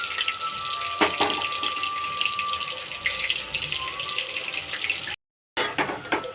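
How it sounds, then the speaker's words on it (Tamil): Chopped onions sauté in a pan of oil in which cinnamon and cloves have already fried, for a home-made pulao: a steady, fairly loud frying hiss with a faint tone running through it, broken by a brief silent gap near the end. "வெங்காயம் நல்லா வதங்கட்டும்."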